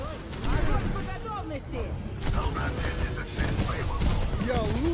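Gunfire in Overwatch 2 as players are shot, with steady rapid shots and game effects running under nearly continuous excited talk.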